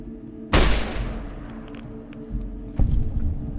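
Gunfire in the Fallout video game, with one loud, sharp boom that rings out and decays over a steady low hum, then a second, duller shot near the end.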